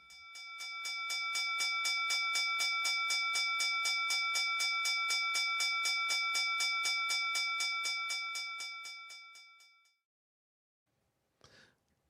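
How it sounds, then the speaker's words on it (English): A bell rung to mark the market close gives a fast, continuous electric ringing that swells, holds for about nine seconds and stops abruptly, followed by silence and a faint brief sound. "Hit the bell."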